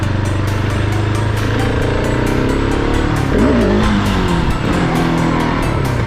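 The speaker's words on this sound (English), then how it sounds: "I gave it like fourth gear gas on second gear." A motorcycle revved hard in second gear near a main street, its engine a loud, steady roar that climbs and wavers in pitch throughout, with no talk over it.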